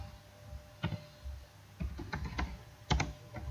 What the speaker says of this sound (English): hit the right key, come in and type crossfader